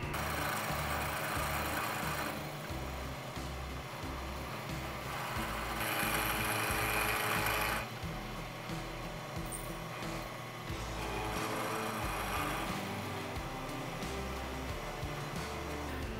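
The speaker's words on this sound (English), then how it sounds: "Just got a half inch end mill hill. Here, nothing fancy. We're going to mill this surface here down to that level." A milling machine with a half-inch end mill cuts down a metal surface in a bicycle frame-building shop, giving a steady, loud, continuous grinding drone with a throbbing low rumble and no talk.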